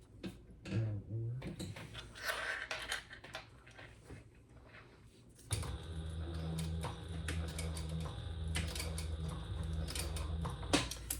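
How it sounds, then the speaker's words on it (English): A sewing machine stitching the open side of a fabric wristlet bag, with soft irregular ticking and handling noises, then a steady low mechanical whir running continuously at close range. "I'm sewing the open side first."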